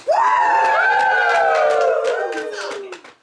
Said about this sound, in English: The crowd roars.